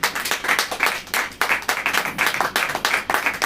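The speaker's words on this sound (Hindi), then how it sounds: "तो तालियों के साथ पर स्वागत कीजिए हमारे यीशु मसीह का।" A church congregation claps in welcome, with rapid, loud, rhythmic handclaps repeating steadily throughout the short stretch, no talking over it.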